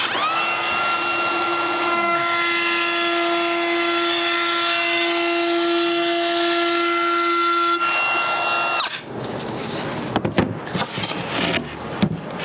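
Router running a round-over bit along the edge of a wooden cabinet shelf, a loud steady high whine that cuts off, then clattering handling and shuffling sounds close by.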